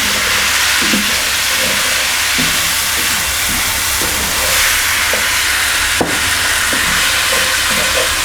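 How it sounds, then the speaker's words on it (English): Base gravy poured into a hot pan of softened curry onions sizzles and hisses loudly and steadily, a dense close frying roar with a small clatter partway through. "this base gravy is now going to deglaze that pan and pick up all those flavours"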